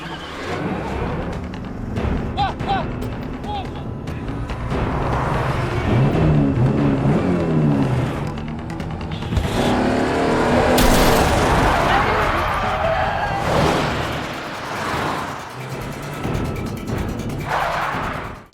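Cars racing and ramming each other in a Korean film, with roaring engines, crashes and impacts over a dense, loud action soundtrack.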